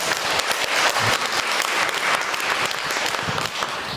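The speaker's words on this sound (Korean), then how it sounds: "박수로 맞이해 주시기 바랍니다." A studio audience at a stem cell talk concert greets two guests with a dense, sustained round of applause that holds steady and fairly loud throughout, with no talk on top.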